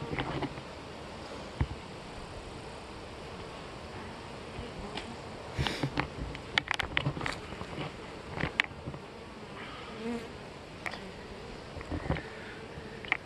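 Honey bees buzz around a double queen hive outdoors, a soft, steady drone with occasional louder passes as individual bees fly close to the listener.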